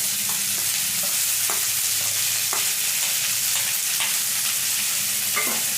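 Drumstick leaves fry with browned onions in a pan, giving a constant sizzle broken every second or so by a brief scrape of stirring.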